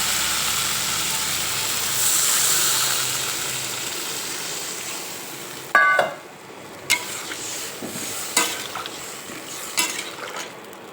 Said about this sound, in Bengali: মশলাটা আমার কষানো হয়ে এসেছে, এর মধ্যে আমি এবার ঝোল দিয়ে দেবো।